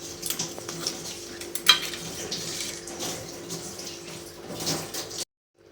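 A crab gravy is stirred in a pan: soft, fairly faint bubbling and scraping stirs with a few clinks of a utensil, ending in sudden silence.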